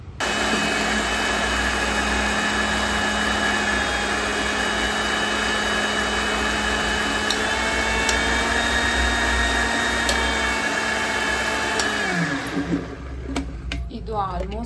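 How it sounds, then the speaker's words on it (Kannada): A mixer grinder whirs loudly and steadily, blending a dry fruit milkshake with a constant motor drone, then spins down and stops near the end. "ಇದನ್ನ ಇವಾಗ ಗ್ರೈಂಡ್ ಮಾಡ್ಕೊಂಬಿಡೋಣ"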